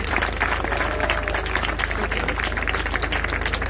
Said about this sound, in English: If you can give another round of applause for our beautiful choir.